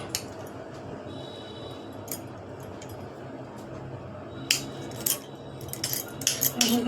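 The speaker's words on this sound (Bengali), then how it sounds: "আমি পুরো পনিরটাকে কেটে নিচ্ছি" A knife chops a block of paneer into small cubes for chow mein, with light, irregular taps and clicks against the board that grow quicker and sharper toward the end, close by with no talk.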